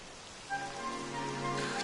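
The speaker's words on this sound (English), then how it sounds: "It would have to go and start raining, wouldn't it?" Rain begins falling in the video game Dragon Quest XI, a soft, even hiss of drops that grows slightly denser over a moment, with faint tonal music underneath.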